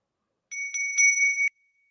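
A small meditation bell rings clearly in near silence, a bright sustained chime struck about three times within a second, each tone ringing on briefly before stopping abruptly.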